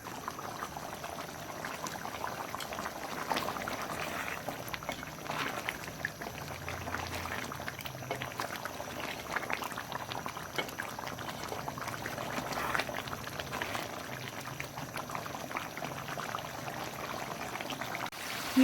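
Quail karahi masala bubbles and sizzles steadily in a pan, a soft, even crackle that goes on without a break.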